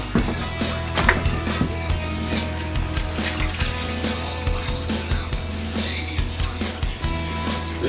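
Water pours and splashes into a Dutch oven of chicken stew cooking outdoors on a smoker grill, a steady close-up stream with faint clatter around it.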